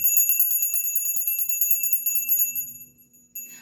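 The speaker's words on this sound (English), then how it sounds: "Let's ring our bell." A small, high-pitched bell rings in a rapid run of shimmering strokes that fade out, followed by one more clear strike near the end, heard alone and up close.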